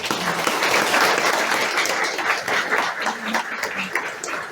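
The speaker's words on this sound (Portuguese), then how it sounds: "Então vamos aplaudir essa classe." A gathered audience applauds a class being honored, dense continuous clapping filling the room for several seconds at a steady, fairly loud level.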